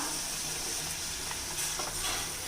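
Tomato and chopped capsicum frying in a pan for a home-cooked capsicum tamarind pachadi, giving a steady close sizzle and hiss with faint stirring scrapes, no voices.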